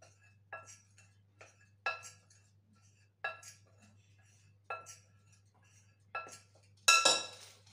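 Spoon clinking against a bowl while flour and baking powder are stirred together for sesame cinnamon butter cookies, a series of light, close taps and scrapes spaced irregularly, with a sharper clatter at the end.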